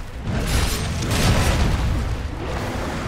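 Cannon fire against a monster in the video game Monster Hunter World, a loud booming blast with a rumbling low end that holds steady for about three seconds, with no talk over it.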